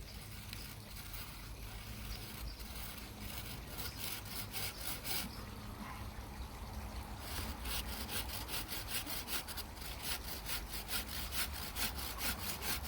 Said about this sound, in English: The saws are very sharp. They're designed for cutting green wood.